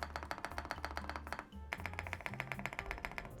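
Rapid, even keystrokes come from an AULA F108 Pro keyboard with linear switches, a steady stream of crisp taps with a brief pause midway before the typing resumes.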